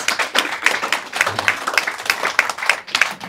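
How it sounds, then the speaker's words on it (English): An audience gives a round of applause after a philanthropy talk, with close, loud, uneven clapping from a modest group of hands, swelling and dipping in quick bursts throughout. "Let's give them a round of applause"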